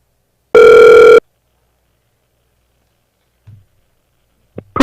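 A single loud, steady electronic ring tone on an outgoing telephone call, sounding once for about half a second, followed by near silence and brief faint clicks before another tone starts.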